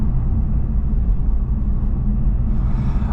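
Honda Civic Type R FL5 turbo engine on a night drive, heard from inside the cabin as a deep, steady rumble with road drone, continuous and fairly loud, with no talking.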